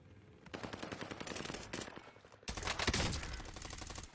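Rapid automatic gunfire in a team-based video game shooter, dense sustained bursts that pause briefly and then resume louder, close and dominant with no voices.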